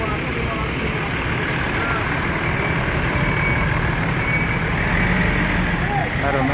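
A Rosin Jetbus 3 coach pulls in at an Indonesian bus stop, its engine a steady loud rumble over busy traffic noise, with a truck nearby and voices talking throughout.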